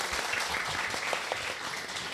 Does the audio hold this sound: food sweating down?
no